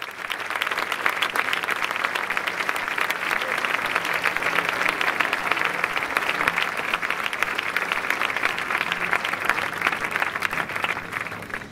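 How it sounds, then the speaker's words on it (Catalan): Sustained audience applause at a ceremony in Reus honouring people behind the 1 October referendum, dense steady clapping from a large crowd lasting the whole stretch without a break. "Demanem un aplaudiment"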